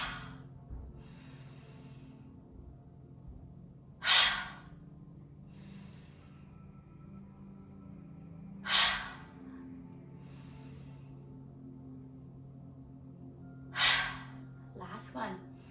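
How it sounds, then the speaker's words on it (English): During a tai chi session, deep breaths are drawn and pushed out, with three loud, breathy exhales spaced about five seconds apart over a faint steady background hum. "Take a nice deep breath in. Make a big circle. Breathe in and exhale."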